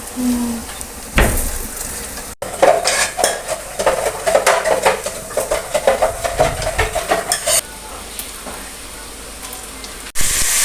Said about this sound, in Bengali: এখানে রোলের জন্য চিকেন ভেজে নিচ্ছি